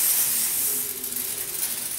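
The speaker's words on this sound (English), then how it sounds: "So, spray everything down real well." Aerosol degreaser sprayed over new traps, a strong close hiss that starts full and continues slightly softer with a faint mechanical rattle underneath.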